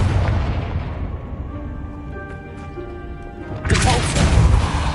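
A Confringo spell explosion in Hogwarts Legacy lands as a deep booming blast, followed by a fading rumble with a faint ringing tone, then a second rush of crackling noise near the end.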